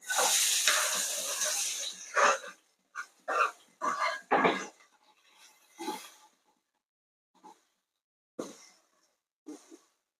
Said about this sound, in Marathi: कांदा इथे ब्राऊन कलरचा होईपर्यंत आपल्याला परतून घ्यायचा आहे